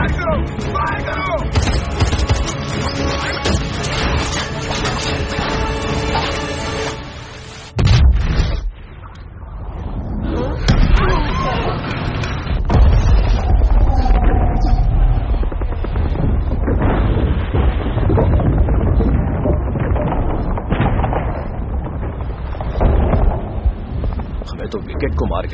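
Battle scene from a Hindi-dubbed Hollywood zombie movie: soldiers fire weapons, with dense gunfire and heavy booming blasts thundering continuously over a loud musical score, a short drop in the middle and a voice shouting orders.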